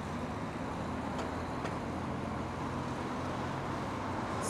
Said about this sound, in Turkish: Ya bak, araba sesleri falan